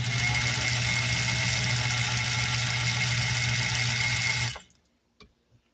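An older sewing machine runs at a steady whirring hum with a constant motor drone for several seconds, then winds down and stops, leaving a couple of faint mechanical clicks.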